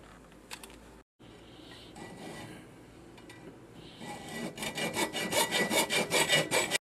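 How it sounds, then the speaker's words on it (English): Hacksaw cutting a piece of metal stock to length for a homemade trivet, a rough scraping texture that builds into a fast run of loud, regular back-and-forth strokes near the end. "then we'll cut that with our hacksaw"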